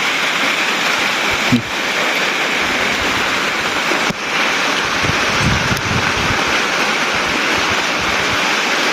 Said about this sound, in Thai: ฝนตกแห้งขนาดเลย